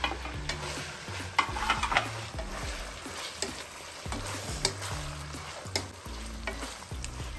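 Mixed vegetables frying in a ginger-garlic masala paste for vegetable biryani, with a steady sizzle and repeated scraping stir strokes of a spoon against the pot, close and alone.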